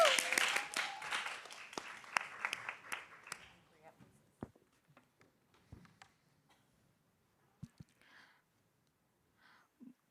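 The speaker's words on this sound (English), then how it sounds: "A round of applause, please." An audience at a World Bank youth pitch competition final claps for a competitor taking the stage, a dense burst of clapping that thins out within a few seconds into scattered claps and footsteps.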